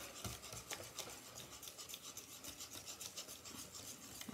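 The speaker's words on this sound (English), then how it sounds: "Stir it up a little bit." Banana bread batter with eggs and butter is stirred in a bowl, a faint, close, rhythmic scraping and rubbing that repeats steadily, with no voice.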